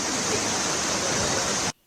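A dense, continuous roar of heavy rain and rushing floodwater on a Delhi street, loud and steady with no voices, cutting off abruptly near the end.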